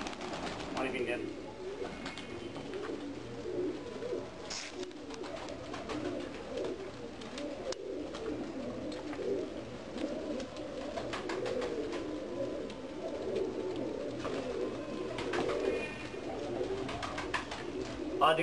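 Pigeons coo softly and repeatedly while drinking at a water spot, low rolling calls close by, with someone talking over them for much of the time.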